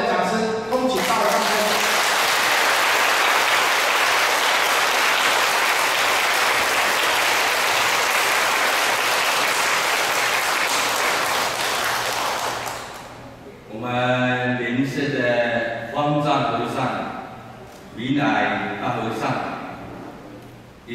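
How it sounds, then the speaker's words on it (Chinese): An audience at a Buddhist lecture claps in a loud, sustained burst of applause for about twelve seconds. The clapping then stops abruptly and a voice begins speaking. "那我们再掌声恭喜他。"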